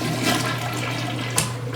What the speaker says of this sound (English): And the flushes.